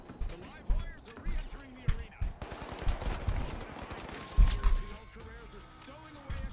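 Bursts of AK rifle fire crack in quick rattling volleys during a match of the shooter game The Finals, mixed with a player's voice talking over the shots.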